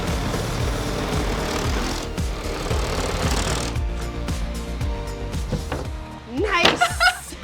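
A reciprocating saw cutting during a home tailgate-space makeover: a rapid, chattering buzz of stroking blade for several seconds, close and fairly loud, then a voice speaks briefly near the end.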